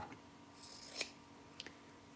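Scissors snip through quilt fabric pieces in a quiet room, one crisp cut in the middle followed by two quick smaller snips, close and clear with no talking.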